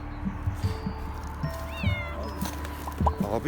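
A cat meows several times at close range, the calls rising and falling, with rustling and faint voices in the background.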